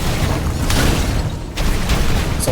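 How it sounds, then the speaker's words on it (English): Loud, dense explosions and area-effect bursts from freezing attacks erupt in V Rising combat. They form a continuous booming rumble that dips briefly before surging again. "Looks like that she freezes them and then they become explosions."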